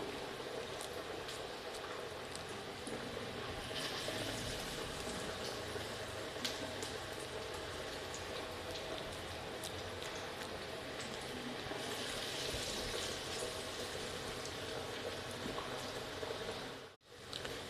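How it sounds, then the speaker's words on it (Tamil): Masala vadai (paruppu vadai) deep-frying in hot oil on a medium flame, a steady dense bubbling and hissing that runs continuously, fairly close, with a brief dip near the end. "கொஞ்சம் மீடியம் ஃப்ளேம்லேயே வச்சு பொரிச்சு எடுத்துக்கலாம்"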